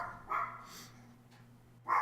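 A dog barks in two short, loud bursts, one near the start and another at the end, with a quieter stretch between them and no talking.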